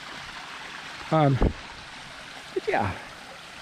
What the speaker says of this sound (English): there's not a lot of water running down here, but there is water running